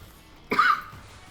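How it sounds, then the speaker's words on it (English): A single short, sharp cough from a person, close and fairly loud, standing alone against a quiet background with no talk around it. "Oh, I've got a little bit of a cough."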